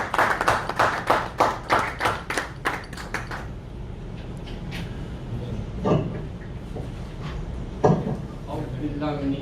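Audience applause welcoming a guest at a Hindi-Urdu poetry gathering: a burst of rhythmic hand claps for a few seconds, then fading into room murmur with scattered voices.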